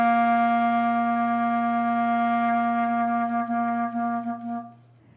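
A clarinet sustains a low chalumeau C as the tongue slowly touches the reed, a steady close tone that begins to waver and stutter slightly toward the end before fading out.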